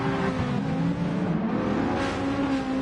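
A race car in Gran Turismo Sport pulls away from a standing start in second gear at Willow Springs, its engine a steady, loud, close drone that holds strong throughout with no talk over it.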